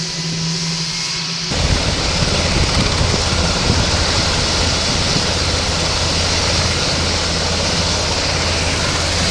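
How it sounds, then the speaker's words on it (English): A helicopter's engine running at Caernarfon Airport on the Welsh coast: a loud, steady roar with a low droning hum starts abruptly after a quiet moment and holds without a break. "Helicopter. Come on, go up."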